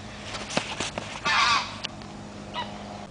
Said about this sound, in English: Sounds like shotguns going off when actually it's geese flying over or honking.